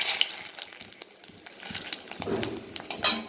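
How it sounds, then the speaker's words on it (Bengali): Cumin seeds, chopped green chilies and bay leaf hitting hot mustard oil in a pan, a soft crackling sizzle with small pops and a few louder spits, close and fairly quiet. "আমার তেল গরম হয়ে গেছে এবারে আমি দিয়ে দেবো সাদা জিরে পোড়া দুটো কুচি লঙ্কা"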